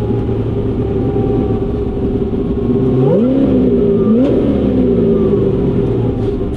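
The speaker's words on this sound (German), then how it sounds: "vom Klang her erstaunlich hell oben raus" A supercharged 800 hp Corvette ZR1 rolls along in second gear at about 70 km/h, its engine droning steadily, then rising in pitch through two short throttle bursts near the middle, bright at the top end, with no one speaking.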